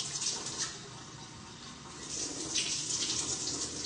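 Lukewarm tap water pours steadily into a sink, a continuous hiss with slight surges in strength, fairly close and without voices.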